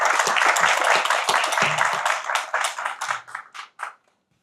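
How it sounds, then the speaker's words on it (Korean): An audience at an ecumenical seminar gives a big round of applause for a keynote speaker, a dense indoor ovation that thins into scattered claps and stops after about four seconds. "다시 한번 큰 박수 부탁드리겠습니다"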